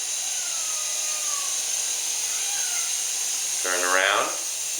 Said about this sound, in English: This is more of an indoor type helicopter because of its size.